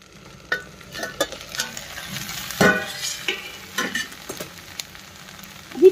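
Okra and potatoes cook in a covered pan on a medium flame, with soft sizzling underneath and a series of scraping, clinking stirs from a spatula at irregular intervals.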